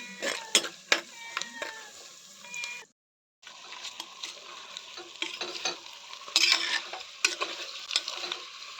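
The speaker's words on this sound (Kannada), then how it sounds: "ನೀರುಳ್ಳಿ ಬೆಳ್ಳುಳ್ಳಿ ಶುಂಠಿ ಚಕ್ಕೆ ಪೂರ ಪಾಡ್ದು ಫ್ರೈ" Onion, garlic, ginger and cinnamon frying together in a pan, crackling sizzle with repeated scraping stirs and clinks of a utensil, close by, with a brief silent gap partway through and no speech.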